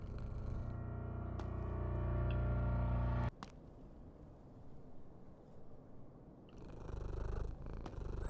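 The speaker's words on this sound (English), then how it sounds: "I can just keep petting the cat." A video-game cat purrs loudly and steadily while being petted, a close rumbling drone that cuts off suddenly and gives way to a quieter low hum.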